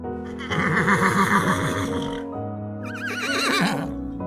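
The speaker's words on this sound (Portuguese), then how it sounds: "percebi que os cavalos começaram a agir de maneira estranha" Horses on a ranch at night neigh and whinny in two long, agitated bursts, loud and close, with a short lull between them.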